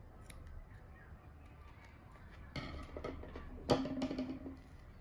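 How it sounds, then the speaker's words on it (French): Scissors snip a strand of iridescent crochet yarn after a small crocheted tulip is finished, making a few close, sharp clicks against quiet background hiss. "Maintenant, on vient couper."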